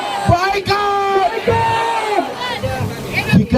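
A huge crowd at a Monas rally in Jakarta roars and chants together, with long rising and falling shouted calls sustained over booming ambient noise, loud and reverberant.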